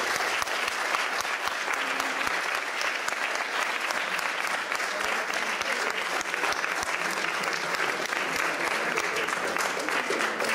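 Applause from an audience at a library event with a school class, sustained loud clapping from a sizable crowd that continues steadily throughout.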